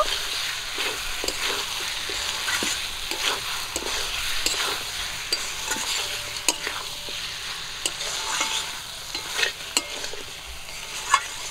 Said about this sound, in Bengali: সব কিছু মশলা দিয়ে মাংসটাকে একটু ভাজা করে নেব।